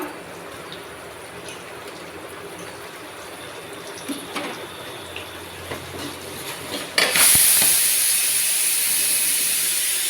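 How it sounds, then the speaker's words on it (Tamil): A pressure cooker, cooking bitter gourd and field bean curry with onion and tomato, lets out a sudden loud, sharp hissing whistle of steam after a stretch of quieter sizzling, then holds a steady high-pitched rush. "அதுக்கப்புறம் குக்கர் விசில் வருது"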